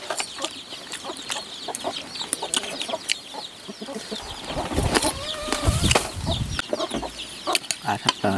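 Chickens cluck and chatter continuously at close range outdoors during a hunt in the hills, with overlapping calls, a brief flutter of wings and busy ambient rustling.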